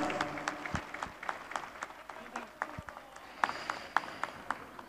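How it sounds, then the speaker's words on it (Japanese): Applause from an outdoor crowd at the Tokyo 2020 Olympic torch relay start in Fukushima after a taiko drum performance, sparse distinct claps rising and falling against a murmuring background. "大きな拍手をお願いいたします。"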